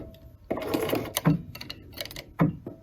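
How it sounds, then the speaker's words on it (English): A sewing machine backstitches along the edge of a patch pocket at a shortened stitch length, giving short bursts of rapid mechanical ticking and clatter that start and stop, close by. "So I'm going to lower that stitch length to make it look a little bit tighter, and I am going to backstitch."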